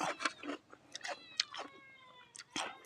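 A cat in a rural Thai outdoor setting gives several short, fairly close meows with rising and falling tones, spread across a few seconds with quiet gaps between them.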